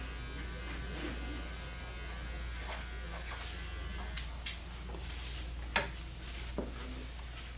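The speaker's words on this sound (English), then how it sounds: "So this is how easy this clipper is to use and to switch the blades so I can switch tools." Electric hair clipper running steadily at close range, a constant buzzing hum throughout, with a few small clicks and taps near the end, likely as the blades are switched.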